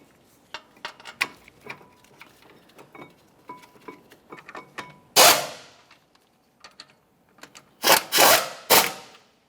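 Metallic ratcheting and clinks from a wrench on the brake caliper bracket bolts of a 2001-2005 Ford Explorer Sport Trac, with quick irregular clicks and a few louder ratchet bursts close up, no talk.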